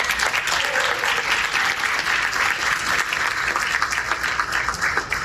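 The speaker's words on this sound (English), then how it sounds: "So please give yourselves a round of applause." An audience applauds at a conservation event, a dense, steady wash of clapping from many hands that holds for several seconds, close and fairly loud.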